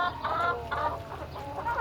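Chickens cluck in short, repeated bursts close by, with no talking.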